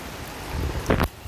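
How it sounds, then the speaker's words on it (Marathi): Monsoon rain in the Konkan countryside, a steady soft hiss of falling rain with a louder brief rustling burst near the end. "आता पाऊस पण पडतो"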